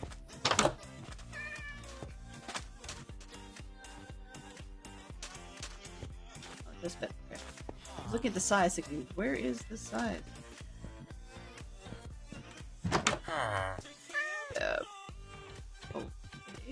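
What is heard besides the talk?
cat meowing in the video game Minecraft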